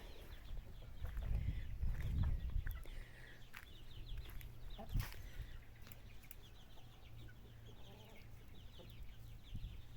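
Older hens cluck and murmur nearby, with a louder burst of fowl noise early on and occasional soft calls, in a quiet outdoor setting.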